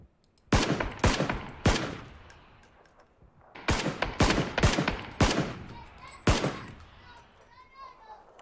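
Gunfire in the shooter game PUBG: loud, sharp shots in two bursts, three spaced cracks, a pause, then a rapid cluster of five or six more, with faint background chatter between them.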